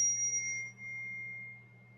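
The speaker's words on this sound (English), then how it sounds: "like a little bell" A small bell gives a single bright strike at the start and then rings on with a long, fading, pure tone over a steady low hum.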